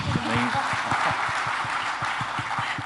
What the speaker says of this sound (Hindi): प्रतिभा के लिए आप लोग तालियां नहीं बजाएंगे?